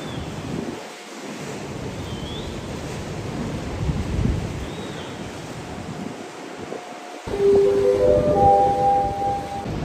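Rough surf at Perfect Day at CocoCay churns in a steady broadband roar with gusting wind across the microphone, swelling louder near the end as a faint tonal horn-like call sounds in the distance.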